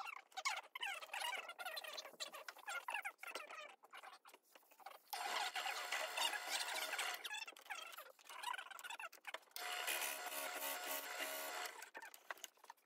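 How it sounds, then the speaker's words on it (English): A 7mm barrel trimmer cuts a wooden pen blank down to its brass tube, making a rasping, whirring scrape in close bursts with a short pause and then a second longer burst, fairly quiet. "Use a 7mm barrel trimmer to cut both ends of each blank down to the brass."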